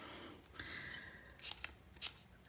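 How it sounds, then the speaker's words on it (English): Scissors snipping paper while making paper flowers, a few quiet sharp cuts and crisp crunches close by, with a faint tearing rustle between them. "Look at me being wild with my scissors."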